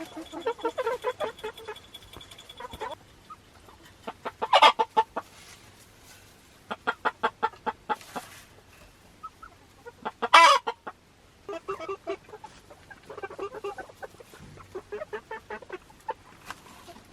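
Barred Rock chickens cluck and squawk on a chicken porch in a run of short, close, irregular bursts, with a couple of louder cackles standing out and brief quiet gaps between calls.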